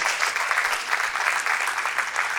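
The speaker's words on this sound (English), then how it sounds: "CCTRIS deserve a round of applause" A seminar audience gives a steady round of applause to the CCTRIS team at an academic session on clinical trials at the University of Lagos, dense continuous clapping at even loudness throughout, with no voices over it.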